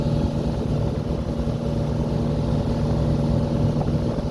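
A kampay outrigger motorboat engine drones steadily and loudly throughout, a constant low rumble with no pauses.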